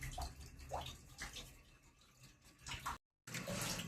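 Water splashes and runs while a household air cooler is scrubbed clean by hand, a steady close rushing with uneven surges and a brief gap near the end.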